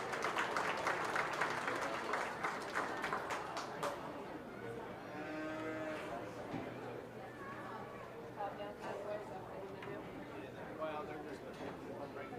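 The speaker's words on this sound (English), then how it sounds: "Give him a round of applause." Applause from the ringside audience at the Belmont County Fair open beef show, strongest at the start and then settling into steady crowd noise, chatter and livestock sounds.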